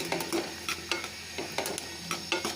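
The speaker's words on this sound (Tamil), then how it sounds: "அதனால் நான் ஸ்லோ ஃப்ளேமில் வச்சு நான் வறுத்துட்ருக்கிறேன்." Cashews roast in a pan over a slow flame, with a spoon scraping and stirring in repeated strokes against a soft sizzle; the sounds are close and fairly quiet, and no one speaks.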